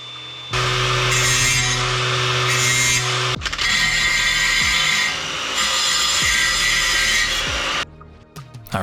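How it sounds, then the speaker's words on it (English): Angle grinder flattening the 90-degree corner of a brake caliper bracket during an Akebono big-brake install on a Nissan 350z, a loud continuous abrasive whine with a brief break partway, then cutting off near the end. "we'll hit it with the grinder to make a nice flat edge"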